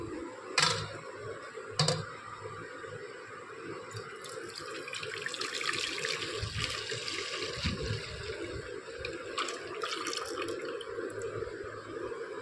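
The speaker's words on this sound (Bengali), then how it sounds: "অন্য একটা পাত্রে এই দুধটাকে আমি ঢেলে নেব।" Boiled milk is poured from one pot into another in a home kitchen, a continuous liquid splashing and trickling stream with a couple of sharp knocks of the pots near the start.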